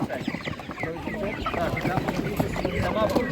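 Chickens at an animal market cluck continuously nearby in a busy, crowded din, with people talking among the birds.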